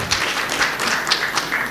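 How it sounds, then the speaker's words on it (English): An audience at an indirect tax panel discussion gives a speaker a steady round of applause, dense continuous clapping at moderate level with no voices over it. "Please give sir a big round of applause"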